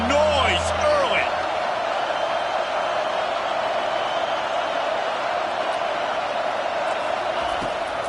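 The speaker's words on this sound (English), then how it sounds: "This crowd bringing the energy and noise early." Steady roar of a stadium crowd at an Oklahoma State versus Stanford football game, a dense, loud wash of noise sustained throughout, with a commentator talking briefly at the start.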